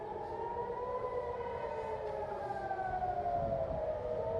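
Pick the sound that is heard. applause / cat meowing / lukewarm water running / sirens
sirens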